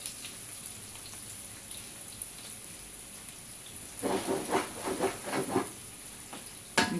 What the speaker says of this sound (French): On fait cuire l'oignon dans l'huile de palme